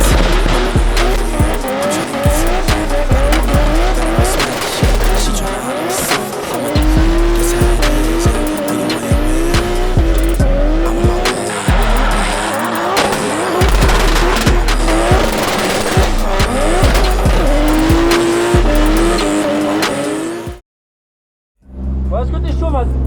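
An 1100 hp BMW M3 drifts at speed, its engine roaring in loud, choppy surges under continuous screeching tire squeal, with brief voices mixed in before the sound cuts to near silence and then returns.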